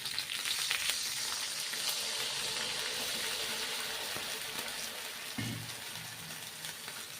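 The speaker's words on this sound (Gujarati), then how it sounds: "બે મિનિટ આપણે આને તેલમાં જ પાકવા દઈશું" Steady crackling sizzle of cauliflower frying in hot oil, continuous and close, with a brief soft clatter near the end.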